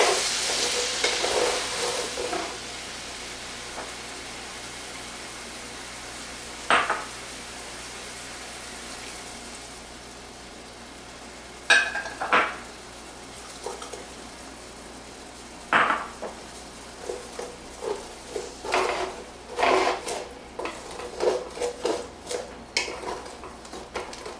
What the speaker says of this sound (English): we want to make sure we scrape all these bits off the bottom of this pan